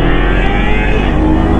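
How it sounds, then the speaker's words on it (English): A 2015 Kawasaki Ninja 300 Special Edition motorcycle engine while riding, a loud, continuous, close droning hum with no talking. "Ninja 300 Special Edition 2015"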